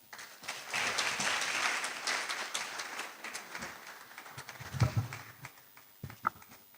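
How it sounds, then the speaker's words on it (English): Warm applause from a public forum audience fills the room, building from a scattered start and fading toward the end, with a few isolated claps and brief murmurs near the close. "Thank you very much for the warm applause."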